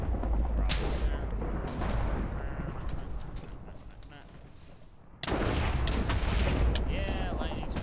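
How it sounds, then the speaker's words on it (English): A Minecraft lightning strike in a modded 1.7.10 world, a loud crackling thunderous boom that rumbles on, drops briefly, then returns with another sharp roaring burst, with a voice talking underneath. "Yeah, lightning strike."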